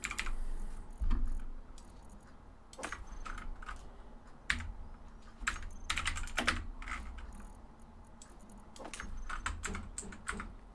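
Rapid, irregular typing on a computer keyboard during a Space Engineers auto-mining ship build, sharp clicks and clustered key bursts running steadily throughout over a low background hum.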